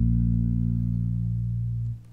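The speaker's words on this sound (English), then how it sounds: "And sound two is an electric bass," Electric bass patch triggered from a Fishman TriplePlay guitar controller: a single deep sustained note, loud and steady for about two seconds before it is cut off, with no talking.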